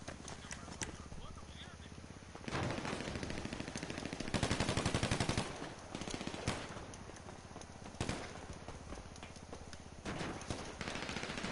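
Rapid bursts of video-game gunfire rattle in quick repeated volleys with short pauses between them, loud and close, while voices talk faintly over the shooting.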